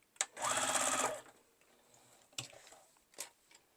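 A sewing machine runs in one steady burst of about a second while back stitching around the corner of a small fabric coin purse, followed by a few faint clicks and taps from handling the fabric.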